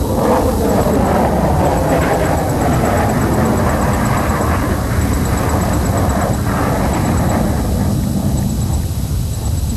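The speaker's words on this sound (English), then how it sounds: "The aircraft will now fly along the grandstand from your right to carry out a" A Sukhoi Su-30 jet fighter flies along an air show grandstand while performing a series of rolls, producing a loud, continuous roar that stays powerful and steady with no pause.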